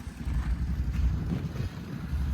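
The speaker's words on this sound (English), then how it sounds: "We'll let that idle for a second. Let it run." A Mitsubishi Outlander engine idles outdoors as a steady low rumble, with wind noise over the microphone and no voices.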